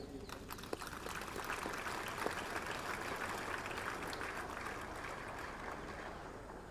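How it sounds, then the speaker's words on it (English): Steady crowd applause for cadets at the NDA passing out parade, broad and continuous from start to end, heard at a distance over open-air ambience with no voices on top. "Ladies and gentlemen, a big round of applause to the cadets and the drill sabs"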